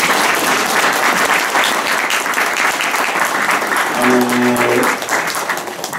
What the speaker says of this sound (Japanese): 4人の報告者の皆さんには今一度ですね、大きな拍手でお願いします